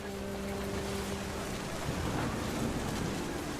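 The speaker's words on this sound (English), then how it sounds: "The thunder sounded much too close and full of angry power." A storm rumbles in What Remains of Edith Finch: a steady, dense wash of rain and low thunder fills the scene, with a faint tonal hum fading out early and the roar swelling slightly near the end.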